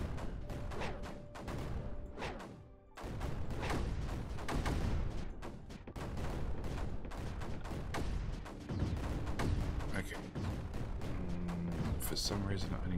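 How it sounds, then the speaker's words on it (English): Mortar and weapon fire in the strategy game Creeper World 4: dense, continuous thumping and crackling blasts, with a voice talking over the barrage. "can I get a mortar in here?"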